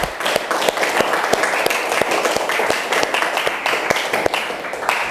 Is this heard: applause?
yes